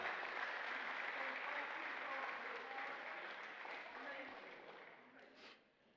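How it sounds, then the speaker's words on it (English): A large crowd at a university awards ceremony applauds the men's basketball team, a dense, sustained roar of clapping that slowly tapers off near the end. "a big round of applause for the men's basketball team"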